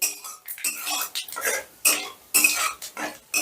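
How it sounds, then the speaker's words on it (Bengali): Whole spices tempering in hot oil over a low gas flame are stirred, with repeated scraping and clinking strokes of a utensil against the pan in an uneven rhythm, close and fairly loud. "এবার ফোড়নটা একটু নাড়াচাড়া করে নিচ্ছি"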